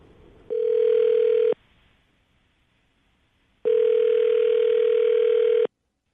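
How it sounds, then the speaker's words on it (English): A telephone call being placed: two long steady ringback tones, the first about a second long and the second about two seconds, separated by a quiet gap, loud and close with no talking. "I'm going to dial her phone number right now"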